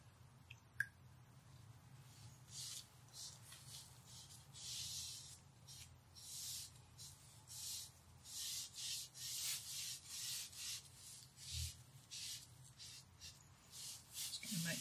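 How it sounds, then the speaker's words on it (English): An ordinary car-washing sponge rubs gum arabic onto a wood block, giving soft repeated swishing strokes in a steady back-and-forth rhythm, close and fairly quiet. "ordinary car washing type sponge, nothing fancy. And I want to give it a good coating of gum arabic."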